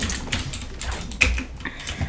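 A loud Ducky One mechanical keyboard clacks under quick, irregular typing, sharp close keystrokes in rapid clusters with brief pauses, with no talking over it.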